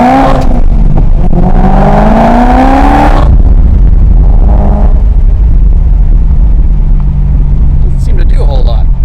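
A BMW M3 with a sport burble tune revs up hard in first gear inside the cabin, the engine rising for about three seconds, then dropping to a low rumbling idle with faint pops, while someone talks over it.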